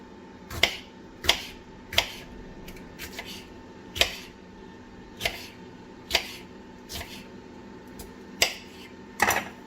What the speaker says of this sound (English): And for the jalapeno, I'm just gonna cut it into small slices real quick